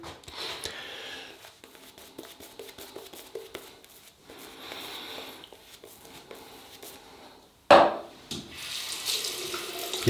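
Tap water runs into a sink while hands are rinsed during wet shaving with slick shaving cream and a Wilkinson Sword flip-top razor; a low, steady trickle, then a louder, close gush of running water near the end.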